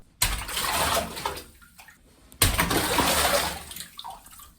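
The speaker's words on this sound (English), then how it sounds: "this sound originates from me punching water in a bathtub" Two splashy surges of water as a fist punches into a filled bathtub, each a loud broadband slosh lasting around two seconds and trailing off into dripping, close and isolated.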